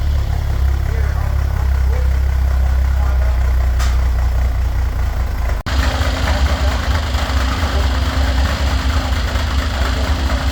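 A Bombardier machine's engine idles steadily in a shop after being started, a loud continuous low rumble with a brief interruption midway and faint voices underneath.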